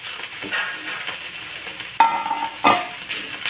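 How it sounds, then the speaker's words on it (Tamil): Tomatoes and onions sauté in a pan with a steady frying hiss, interrupted by two sharper scraping stirs of a spoon against the pan partway through; close and fairly loud, with no talking. "இந்த தக்காளி நல்லா வதங்கிருக்கோம்"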